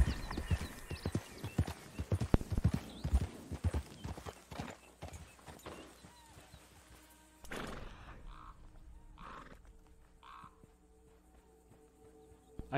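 Horse hooves clip-clop rapidly and loudly in Red Dead Redemption 2 online, a dense galloping rhythm that slows and fades out after several seconds, leaving quiet ambience with a few soft sounds.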